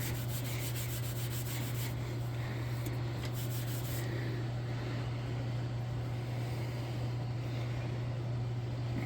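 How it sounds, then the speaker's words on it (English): Steel wool scrubs steadily against metal in a garage, a faint continuous rasping rub over a low steady hum, with no one speaking. "You can even hear it as I'm scrubbing."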